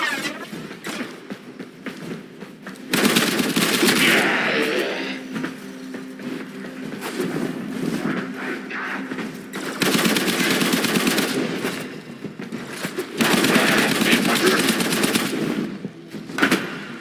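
Sustained automatic primary-weapon gunfire from the video game Warframe, loud and close, coming in dense bursts separated by shorter lulls, with no voices over it.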